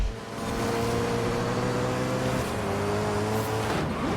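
A Ferrari engine in the racing game Forza Horizon 5 drones loud and close with a steady, sustained tone, shifting pitch slightly near the end as it passes.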